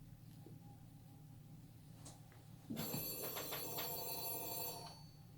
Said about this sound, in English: The phone's going to ring a while, but just take it as some of the ambiance.